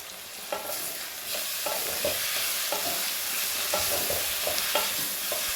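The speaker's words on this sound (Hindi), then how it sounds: "और अच्छा सा भून लूँगी इन मसालों को।" Chopped spices for a ridge gourd sabzi fry in a pan, with a loud, continuous close-up sizzle and regular stirring scrapes throughout.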